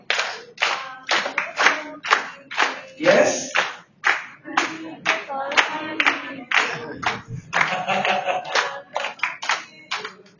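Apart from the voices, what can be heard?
audience clapping hands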